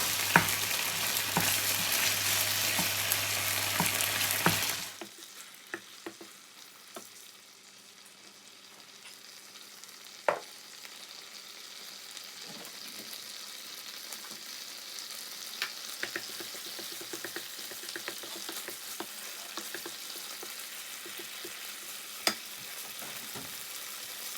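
Thai curry paste sizzles loudly in hot oil in a pot for about five seconds, then drops to a quieter background hiss with occasional clinks and scrapes of stirring.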